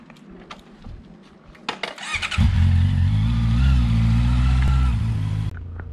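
A Yamaha Tenere 700 adventure motorcycle fires up after a few light clicks and settles into a loud, steady, close idle with a throbbing parallel-twin rumble, cutting abruptly near the end.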